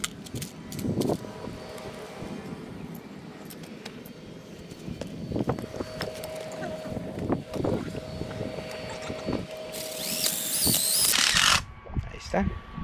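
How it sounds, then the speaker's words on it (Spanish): Screws are driven to fasten a galvanized metal electrical box for an outdoor circuit: repeated ratcheting and clicking, then a loud, sustained whirring burst near the end, with someone speaking intermittently. "vamos a sujetar la caja con unos tornillos de adentro hacia afuera"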